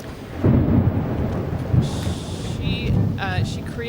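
Thunder rolls and rumbles through a played soundtrack made for an art exhibition, a deep sustained storm texture with a louder crack near the start and thinner tonal electronic sounds layered over it later.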